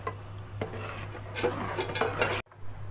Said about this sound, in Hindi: अब इसको मिक्स कर लेंगे।